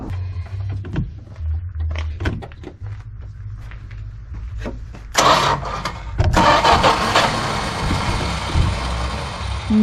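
A 1973 Dodge Dart Swinger barn find, unstarted for 29 years, is cranked by remote starter: quiet rustling gives way to a loud burst of cranking, then the engine catches and runs roughly and strongly close by.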